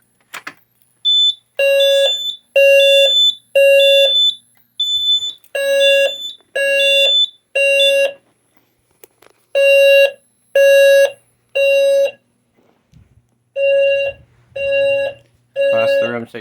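A Simplex electronic fire alarm sounds a repeating pattern of loud, evenly spaced horn tones in groups of three, with short pauses between groups.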